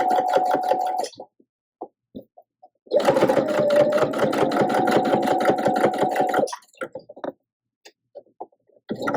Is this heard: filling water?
no